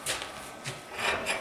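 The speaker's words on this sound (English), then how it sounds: "back that tailstock up a minute" Wooden lathe tailstock being slid back along the bed while turning a winged bowl, a few short scraping rubs of wood and metal, close and moderately quiet.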